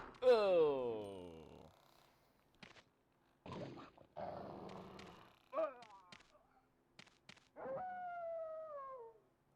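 Snarling Doberman dogs from the survival horror game Resident Evil 2, a loud howling growl at the start followed by scattered short bursts of snarls and yelps, with a rising whine near the end.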